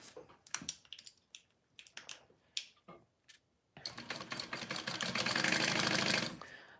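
Sewing machine stitching fabric pocket pieces closed: a few short bursts and clicks first, then a loud, steady, fast-running stitch that holds for about three seconds before stopping.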